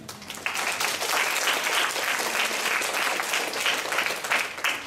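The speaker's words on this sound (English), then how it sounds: "Let's give an applause again." An assembly hall breaks into sustained applause for the delegate of France at a formal policy-statement session, a dense steady clapping that swells quickly and holds loud and full for several seconds.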